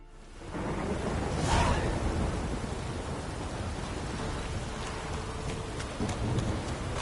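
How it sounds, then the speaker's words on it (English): Steady rain pours in the video game The Witcher 3: Wild Hunt, a dense hiss of falling drops with a rumble of thunder near the start, continuous and fairly loud. "If it don't stop raining, my arse will rot off."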